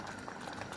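Plain red lentils simmering in a pot on the stove, a steady close bubbling and gentle sizzle with no pauses and no voices.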